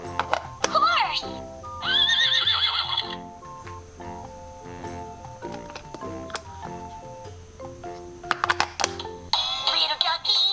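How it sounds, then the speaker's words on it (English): Farm animal puzzle toy playing a recorded horse whinny twice, with tinny clip-clop hoofbeats and a bouncy jingle between them. A speaking voice runs through much of it. "What does the gray horse like to eat?"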